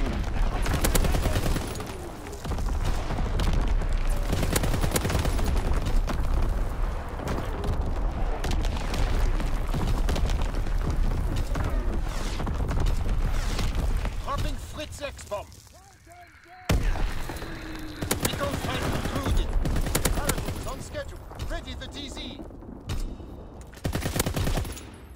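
Artillery battery in a video game firing in heavy, continuous volleys of booms and gunfire. The barrage is loud and dense, breaks into near silence around the middle, then resumes with voices heard under it.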